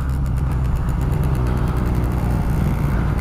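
Small moped engines at a moped meetup putter and idle loudly and close by, a steady buzzing drone throughout with no talking.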